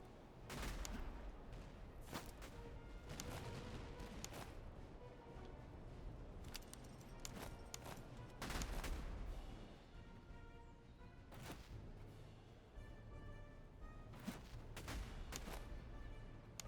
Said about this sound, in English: you can open fire, that's fine